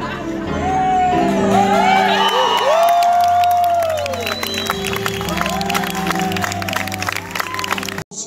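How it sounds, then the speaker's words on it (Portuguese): Applause and cheering from guests at a wedding ceremony rise loudly under a singing voice and music, then ease back as the song carries on. "Palmas."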